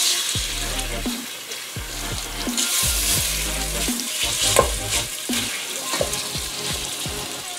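About a tablespoon of olive oil heating in a pan before meat is cooked, for baked ziti; a close, continuous sizzle with intermittent clatter and stirring knocks, and no talk.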